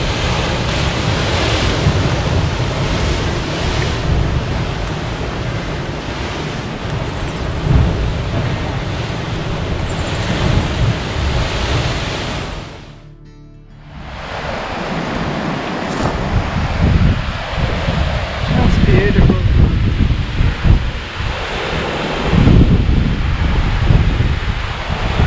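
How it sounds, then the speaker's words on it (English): Sea blowhole on the ocean side of a rocky coast, roaring and rushing with crashing ocean waves, loud and continuous with wind buffeting, broken by a brief lull midway before the surge builds again. "That is the blowhole"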